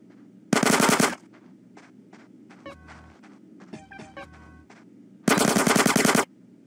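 Two loud bursts of rapid automatic gunfire ring out in a shootout in the video game GTA San Andreas, with quieter metallic clicks and footsteps between them.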